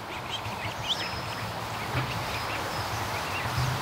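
A goose that has adopted a flock of ducklings, heard outdoors as steady nearby quacking and honking, with a few louder calls over a constant background bed of sound.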